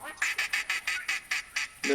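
Ducks quack in a rapid, steady series of about nine loud, close calls during a duck hunt on a bayou.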